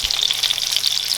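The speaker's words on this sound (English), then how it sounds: "so we have the pork chops frying in the pan" Pork chops fry in a pan with a steady, close, bright sizzle and crackle that holds constant throughout, no voices over it.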